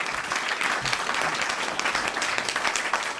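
Sustained audience applause fills a hall at an award ceremony honouring women, a dense steady clapping from many hands with no break throughout.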